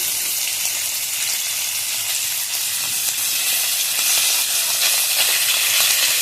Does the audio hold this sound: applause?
no